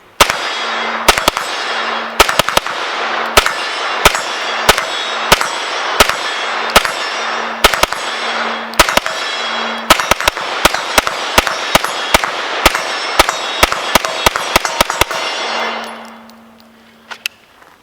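Rapid, loud pistol fire at a shooting range rings out in quick strings and bursts, with dozens of sharp cracks, a steady ringing tone between them, and a gradual fade once the firing stops.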